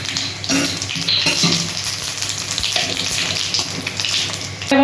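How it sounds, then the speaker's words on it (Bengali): Cumin seeds and bay leaves dropped into hot oil for tempering, a close crackling sizzle with brief spattering bursts and a few utensil clinks. "আমি এখানে জিরে আর তেজপাতা ফোড়ন দিয়ে দিলাম।"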